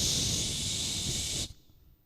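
A snake gives one long, loud, steady hiss that cuts off sharply, leaving near silence.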